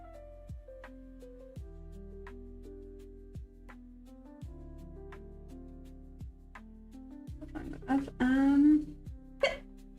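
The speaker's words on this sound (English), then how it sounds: "Sorry, hiccups again." A person hiccups several times at a steady, spaced rhythm, close and soft, with a brief voiced sound near the end.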